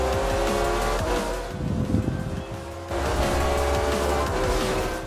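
Racing car drifting in the Forza Horizon 2 video game, engine droning steadily and loud with tire squeal mixed in, dipping briefly in the middle before surging again.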